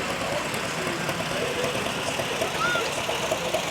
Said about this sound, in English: Here's the fabulous 37s, the John Deere Model A tractors